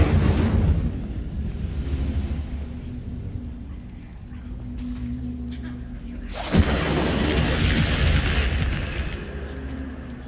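In the video game Hogwarts Legacy, the Incendio fire spell erupts with a sudden loud whoosh and roar over a windy, rumbling background, then burns on steadily for several seconds.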